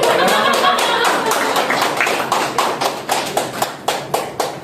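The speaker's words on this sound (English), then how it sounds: "We clap for ourselves." Audience clapping at the close of a book reading session, a mix of scattered claps that thins out into a few distinct, spaced hand claps near the end.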